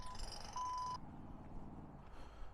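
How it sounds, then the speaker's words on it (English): A phone goes off nearby with a steady electronic tone for about a second, then stops, leaving room noise and a faint hum. "Phone's going off."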